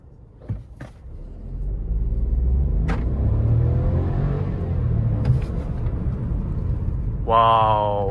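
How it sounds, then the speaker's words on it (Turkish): A 2021 Audi A3 Sportback with a 1.0 TFSI 110 hp engine pulls away from a standstill in sport mode, its engine rumble swelling and holding loud from inside the cabin, with a few clicks and a brief voice at the end. "Hemen şurada bir kalkış deneyelim mi birazcık araba?"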